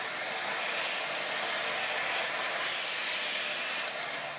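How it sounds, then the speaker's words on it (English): A vacuum cleaner sucks up acrylic debris after cutting with a 3D printer fitted with a rotary drill, giving a steady, close broadband whoosh that holds evenly without pause. "Let me vacuum this up."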